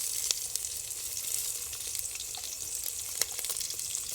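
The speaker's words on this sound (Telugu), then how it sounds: "ఈ ఉల్లిపాయ బాగా ఎర్రగా అయ్యే వరకు వేయించాలి" Onions fry in a pan until reddish for a village-style ponaganti curry, giving a soft, even sizzle with a few sharp crackles, heard fairly close and without talk.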